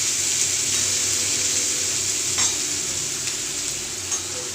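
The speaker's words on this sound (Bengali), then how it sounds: "এই আলুটার সঙ্গে পেঁয়াজটাকে ভেজে নেবো আমি, হালকা লাল করে ভাজবো" Sliced onion and potato fry in oil in a pan while being browned lightly, giving a loud, steady sizzle with occasional soft stirring scrapes and no talk.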